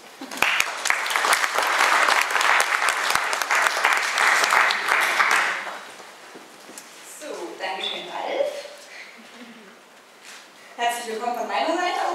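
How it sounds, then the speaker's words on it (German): Audience applause for a speaker taking the stage at a talk, a dense burst of clapping that fades after several seconds, followed by someone speaking close to a microphone. "Applaus."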